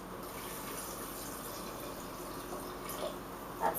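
Water pours into a blender jar holding cashews, a quiet steady trickle and splash that swells slightly near the end.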